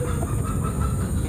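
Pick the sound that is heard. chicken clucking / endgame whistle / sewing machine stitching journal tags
chicken clucking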